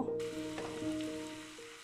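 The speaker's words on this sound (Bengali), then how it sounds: "এখন পেঁয়াজ কুচি আর কাঁচামরিচ কুচিটা দিয়ে দিব।" Chopped onion and green chili hit hot oil in a pan for a fish bhorta, giving a steady close sizzle that holds for about two seconds with no talking.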